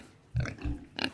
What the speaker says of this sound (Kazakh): Шошқа.